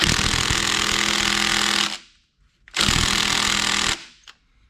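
A loud impact-style power tool hammers away at bolts holding a flywheel, in two sustained bursts of about two seconds each separated by a short silence, close and alone.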